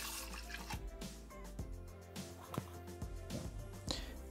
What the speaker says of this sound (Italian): Mettere nel boccale il latte.